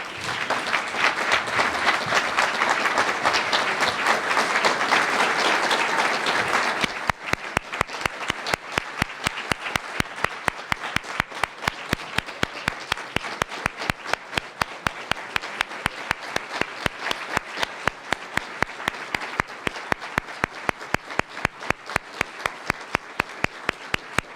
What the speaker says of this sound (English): Wilma, would you please stand and let us applaud you?